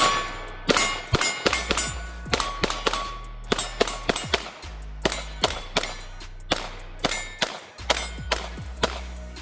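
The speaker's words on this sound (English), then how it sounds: "Let's do some more shooting with this and just see how I feel." Sig P365 Fuse pistol with a 21-round magazine fired at steel targets with open sights: a long irregular string of sharp shots, each followed by a bright metallic clang and ring, close and loud with no talking.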